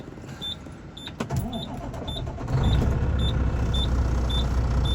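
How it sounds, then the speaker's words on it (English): A truck engine cranks over and catches, settling into a steady low idle, while a dashboard chime beeps at regular intervals throughout. "So now I'm going to start the truck back up."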